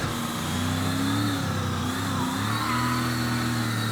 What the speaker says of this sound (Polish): mimo że to jest po prostu Camaro, które miały wtedy wielkie V8 pod maską